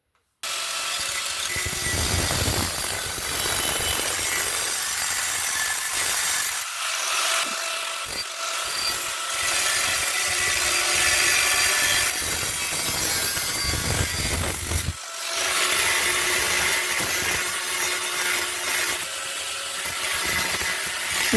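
Power tool cutting a thin metal sill end repair panel for an Austin A30, a loud, continuous harsh rasping grind that runs almost without a break, with a few brief dips where the cut pauses.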